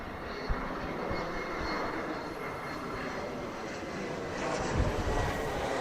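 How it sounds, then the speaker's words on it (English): Outdoors by a lake in Regina on a windy August day, a low-flying airplane drones steadily overhead toward the airport, its broad engine roar blending with wind noise and rising slightly near the end. "We're getting the planes coming right over the lake quite low as they head to the airport."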